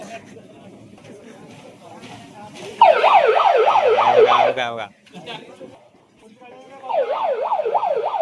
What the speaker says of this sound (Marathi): पोलीस गाडी आल्या पोलीस गाडी